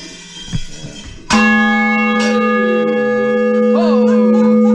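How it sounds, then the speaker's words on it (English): Church bell in a steeple struck once, a loud clang followed by a long ringing hum that slowly fades, with a few softer strikes and handling knocks close by. "That's a bell."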